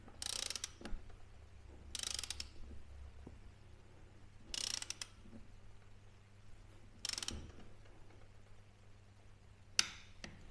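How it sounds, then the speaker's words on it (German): A ratcheting torque wrench tightens bolts on the final drive of a Yamaha Super Tenere 1200, several short bursts of rapid clicking separated by pauses, followed by a single sharp click near the end. "dann nehmen wir nochmal den Drehmoment zur Hand"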